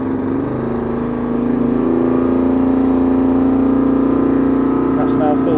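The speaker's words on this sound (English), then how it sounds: "You can feel a click, and then you can rev it up." A Vire 7 inboard engine on a Trident yacht is put in gear and revved, a steady close drone that swells and holds at higher revs, with someone speaking over it.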